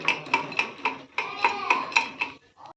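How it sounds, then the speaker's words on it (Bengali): Homemade popcorn is poured from a pan into a bowl, giving a series of light, rhythmic rattling taps against the dish. The taps are close and fairly quiet, and no one speaks. "দেখো আমি ঢেলে নেবো এরকম"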